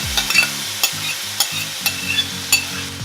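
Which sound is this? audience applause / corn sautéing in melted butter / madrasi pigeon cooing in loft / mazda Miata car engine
corn sautéing in melted butter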